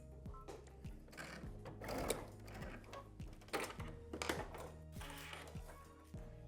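A domestic sewing machine back stitches a pocket onto a quilted coat, its motor whirring in repeated short bursts with brief pauses and reversals, steady and close by, with no talking.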